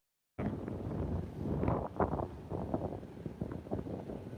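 Low rumbling wind buffeting the microphone, steady and fairly close with gusty swells, no voices.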